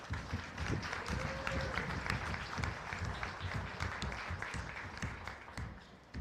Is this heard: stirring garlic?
no